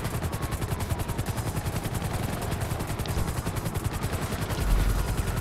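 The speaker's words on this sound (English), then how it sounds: "Are there other people shooting already?" Rapid, evenly spaced bursts of gunfire from an online GTA V multiplayer match hammer on steadily at a moderate distance, with a heavier thump near the end.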